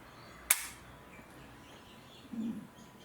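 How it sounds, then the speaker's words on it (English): Dry-fire trigger pull on a Bushmeister BA X12 repeater shotgun gives one sharp, quiet click near the start, then a soft faint sound later over a hushed outdoor background. "let's test out the trigger, and I'll just tell you what it feels like"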